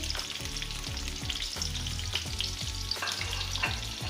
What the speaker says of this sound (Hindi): ऑयल हमारा गर्म हो गया है बिल्कुल और इसके अंदर अब हम ये प्याज डाल देंगे